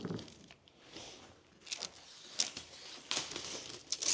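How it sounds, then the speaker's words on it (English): Ordinary masking tape is pulled off the roll and pressed down along the edges of a workpiece on a sailboat, giving close crinkling and tearing rustles in uneven bursts, louder toward the end. "So I'm trying some normal masking tape, and it seems to stick pretty well. So I'm just taping down the edges."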